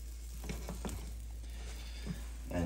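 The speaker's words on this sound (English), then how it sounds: "So now I like to loosen the edges a little bit." Spanish omelette sizzling softly in a frying pan while a utensil scrapes and taps around its edges, a few light clicks over quiet, steady frying.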